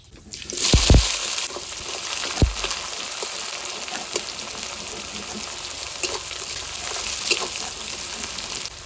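Chopped onion drops into hot oil with whole cumin, cinnamon, cardamom and cloves, a sharp burst at the start followed by a steady close sizzle and crackle with occasional pops and utensil clicks.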